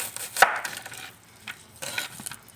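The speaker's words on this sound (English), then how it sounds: "this onion smells fresh still. Chop that up to go into my salad" Fresh onion being chopped on a board for a salad, a few separate knife strokes, one sharp loud chop followed by softer cuts and slicing scrapes, close and alone.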